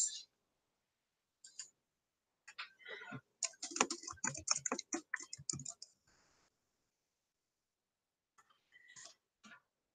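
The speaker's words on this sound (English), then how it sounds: "I'm going to type hello here in the description box" Clicking keystrokes on a computer keyboard as the word hello is typed into a description box, a quick irregular burst of close taps running for several seconds, then a few scattered presses near the end.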